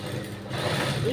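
A sewing machine hums steadily while stitching the neckline of a blouse, a close, continuous motor drone with no pauses through the short moment.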